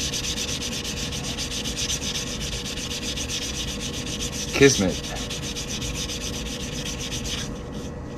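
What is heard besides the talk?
sanding cut edges of coin rings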